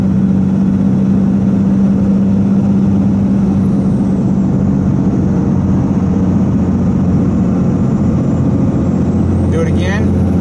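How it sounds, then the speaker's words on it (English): Dodge Ram 2500 with a 24-valve Cummins turbo diesel and an Edge tuning box, held at wide open throttle, gives a loud, steady, close-up engine drone with a strong low hum that stays constant through the whole stretch. "All right, so I'm wide open throttle right now, full throttle."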